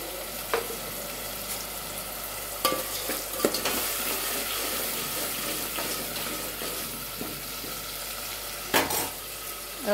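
Onion paste fries in a pan with a continuous soft sizzle, broken by several sharp scraping strokes from stirring.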